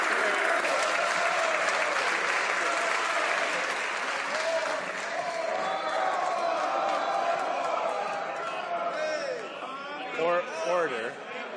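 Members of the Canadian House of Commons give a standing ovation during Question Period. The applause is loud and sustained, mixed with cheers and shouting voices, and it thins out near the end.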